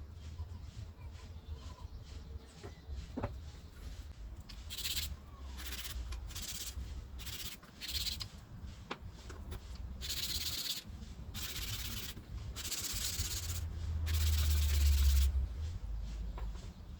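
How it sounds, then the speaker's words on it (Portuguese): Small wooden drawer pulls for a workshop organizer being sanded by hand with sandpaper, repeated rough rubbing strokes in bursts, close and clear over a faint room background. "Para lixar a parte usinada com a tupia, você coloca uma lixa aí numa cavilha"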